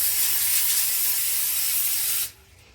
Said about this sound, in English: I'm going to take this Pam spray and spray it all over this pan.